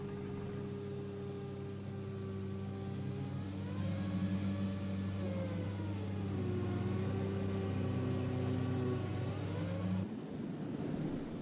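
The Blondin cable crane at the Emosson dam construction site runs with a steady mechanical drone and gently shifting whine, continuous and fairly loud for ten seconds, then cuts off abruptly into a rougher, quieter background.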